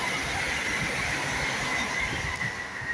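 A Class 730 electric train passes South Kenton station on the London line, a steady loud rush of wheels and airflow with a hissing high whine filling the whole stretch, no talk over it.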